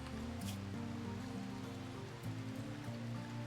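Steady hiss of falling rain in the video game RimWorld, a dense continuous wash mixed under low, droning game music, with no talk.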